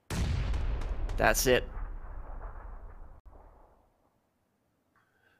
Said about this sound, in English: One nade coming down.